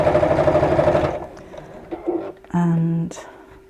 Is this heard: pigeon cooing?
no